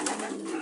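Soft, steady cooing of racing pigeons fills the short moment, a low murmur of several birds close by with no talking.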